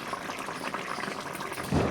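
Hilsa fish and eggplant curry bubbles steadily in a pot, a close continuous simmering hiss with a slightly louder surge near the end.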